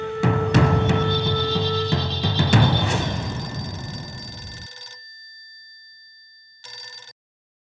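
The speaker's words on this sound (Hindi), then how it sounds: "ठीक है आर्यमन, तुम महल में रानी माँ को फोन कर दो" A telephone rings in an indoor drama scene with bright, repeated bell tones that fade and stop, then sound once more briefly near the end.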